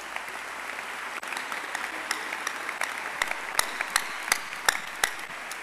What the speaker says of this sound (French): Applaudissez, applaudissez encore.